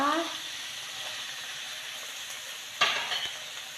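Catfish stir-fried with curry paste and seasoning, a steady close sizzle and hiss with a sharper scrape of stirring near the end, a voice talking over it.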